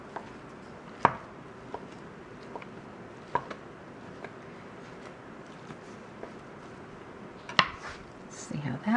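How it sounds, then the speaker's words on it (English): A knife roughly chopping pulled pork on a board in a home kitchen, a scattered series of sharp, separate knocks, a few louder than the rest, at an uneven pace. "a rough chop."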